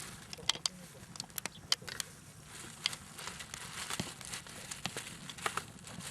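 Crinkly plastic rustles and crackles in short, close bursts as a package is handled and pulled open, fairly quiet with no talking.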